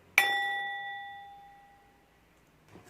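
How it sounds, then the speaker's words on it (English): A single bell is struck once, giving a bright metallic ding that rings out clearly and slowly fades over about two seconds, followed by a faint soft rustle. "going to ring the bell."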